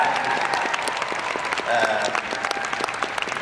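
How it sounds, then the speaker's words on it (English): An audience claps for mothers during an interview with Daveed Diggs, a steady wash of many hands lasting a few seconds, with faint voices mixed in. "We gotta clap for the moms"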